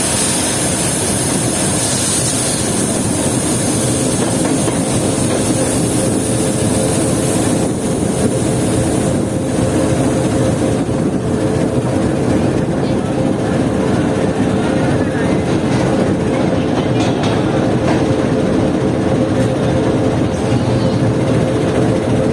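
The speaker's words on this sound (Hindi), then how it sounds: "ये ट्रेन जो है पूरे 8:15 बजे अप्रोच कर रही है TIG road junction railway station पर" Passenger train running into a railway junction station on the line out of Karachi City, making a loud, close, continuous rumble with mechanical roar that holds steady throughout.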